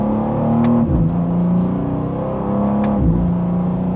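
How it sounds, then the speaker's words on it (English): A 2025 BMW M2 accelerating in Sport Plus mode from second gear, a steady loud engine drone rising in pitch with two quick gear shifts breaking the tone, heard from inside the cabin. "And just a mild acceleration."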